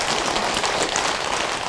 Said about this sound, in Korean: 우리 스님들 고생하시는데 박수 한번 주세요.